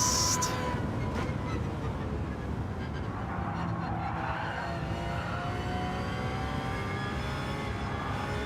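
A car in Gran Turismo 7 brakes hard and skids through a corner, the engine droning steadily with a long tire squeal rising over it, loud and continuous throughout, with no talk.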